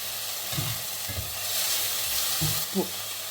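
Fish and vegetables sizzle steadily in a hot pan, a continuous close hiss with a few soft scraping stirs of a spatula breaking through at intervals.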